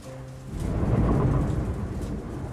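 Rain pours steadily while a low rumble of thunder swells and rolls beneath it.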